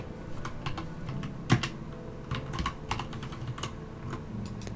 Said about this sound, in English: go to chat, and type in coordinates you'll see